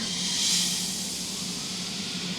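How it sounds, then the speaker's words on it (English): A broad noise sweep hisses and swells, then slowly falls away, like a riser easing into a downlifter effect. "I use a few effects, so some riser and some downlifters"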